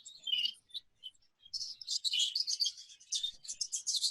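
Exhibition budgerigars chirp and twitter in a steady, lively stream of high, close bird calls, with brief pauses at first before the chatter becomes continuous.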